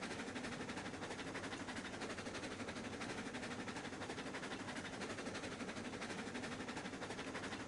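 The Cordwood train's locomotive in Railroads Online gives a steady, dense mechanical roar with a fast rhythmic chuff, continuous and even throughout, no voices.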